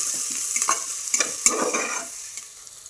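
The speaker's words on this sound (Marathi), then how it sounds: "हिरवी मिरची, अद्रक आणि लसूण याची पेस्ट बनवलेली आपण ती टाकून घेऊया। हे छान हलवायचं।" A spoon stirs green chili, ginger and garlic paste with curry leaves as it fries in a pan, giving a few scraping strokes over a soft sizzle that fades toward the end.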